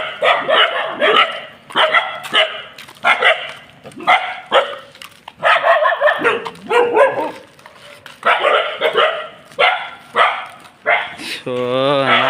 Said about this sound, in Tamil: ஸோ நாய் கொலைக்குது வெறியாகுது